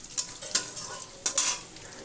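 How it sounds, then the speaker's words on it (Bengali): Raw green banana pieces soaked in turmeric water fry in hot oil, with a steady low sizzle broken by a few sharp scraping stirs of a spoon against the pan. "কাঁচকলা কেটে হলুদ জলে ভিজিয়ে রেখেছিলাম,"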